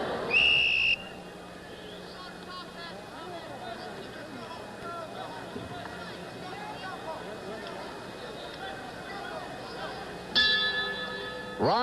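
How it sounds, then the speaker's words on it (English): A boxing ring warning bell rings briefly at the start and again near the end, clanging over a steady murmur of arena crowd noise. "Quarry stayed on a stool until the warning bell went"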